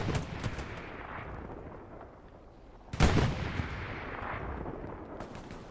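In the WWII shooter Hell Let Loose, a machine gun fires from atop a crashed glider wing: sharp bursts at first, then a heavy nearby blast midway, with scattered gunfire rumbling through the battlefield background.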